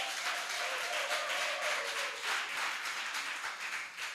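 Crowd applause at an export summit in Nigeria, a fairly faint, continuous wash of clapping heard from a distance through a hall, with a tonal hum running beneath it.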